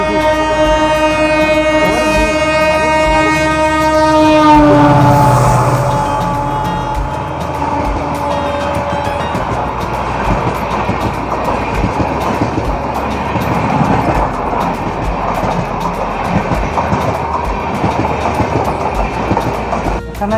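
The Jodhpur-Bangalore Express pulls into Mehsana station, a long loud horn blast opening before giving way to a steady rumble and rhythmic clatter of wheels over rails, with no talk.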